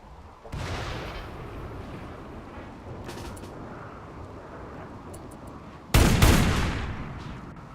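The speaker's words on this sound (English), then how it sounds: "Great cannons!" Cannon fire in RimWorld, 30-millimeter guns booming: one muffled blast early followed by a rumbling tail, then a much sharper, louder burst near the end that decays slowly.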